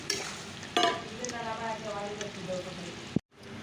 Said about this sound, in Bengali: চিকেন রান্না হচ্ছে তো চলো চিকেনটা রান্না করবে